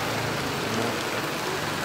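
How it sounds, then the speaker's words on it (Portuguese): Heavy rain pours in the town centre of Custódia in the Pernambuco sertão, a dense continuous wash of sound without any talking. "onde nesse momento chovendo bastante"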